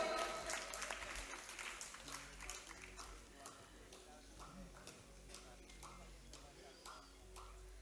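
An audience claps steadily at a Braj Kala Kendra cultural event in Delhi, a dense, fairly faint patter of applause that is strongest at the start and gradually thins out over several seconds, with no speech over it.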